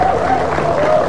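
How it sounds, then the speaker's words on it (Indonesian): Studio audience applause on the Indonesian talk show Hitam Putih, a brief, steady wash of clapping at moderate loudness. "Boleh tepuk tangan dong."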